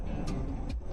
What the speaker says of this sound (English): Lot of trucks.